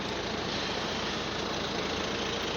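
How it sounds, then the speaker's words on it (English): A BMW 320d E92 diesel engine idles steadily with the car locked, a dense, even mechanical rumble with a faint knocking texture, close and constant throughout. "Obviously it's locked just now, but the engine is running"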